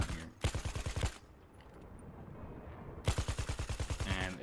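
Rapid automatic gunfire in a video game, two loud close bursts of about a dozen shots each, separated by a short quiet gap.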